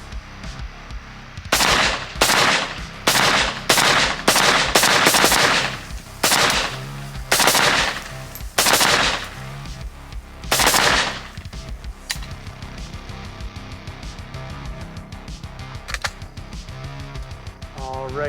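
Rifle fitted with a Witt Machine SME, fired with no muzzle device and the gas system unadjusted; a string of sharp, loud, close shots in irregular quick succession, then quieter rattling and handling noise.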